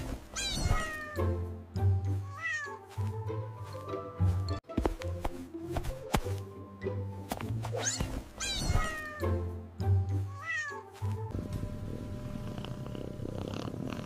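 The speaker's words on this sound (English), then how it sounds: "And a quick meow to finish." A fluffy cat meows several times in short and drawn-out calls, mixed with soft purring and low rumbling sounds, close and fairly clear without any talking.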